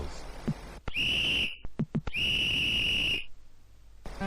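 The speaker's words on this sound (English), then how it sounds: "And then the whistle goes." Referee's whistle in an Amiga football video game: two long, loud, shrill blasts, the second longer, with short chirps between them over a low game background.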